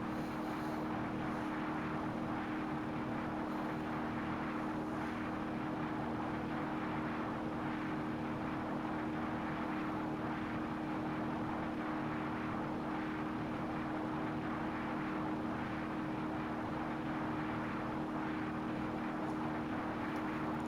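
A BeamNG.drive AI rally car on a special stage holds its engine near 8,000 RPM, a steady droning whine that runs unbroken and fairly faint, with no voices.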